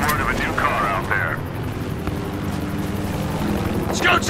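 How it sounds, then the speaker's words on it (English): A scout helicopter passes in a Battlefield Hardline match, its rotor thrum steady and fairly loud beneath game voices, with a few bursts of gunfire and effects mixed in. "Scout chopper incoming. That's a scout chopper!"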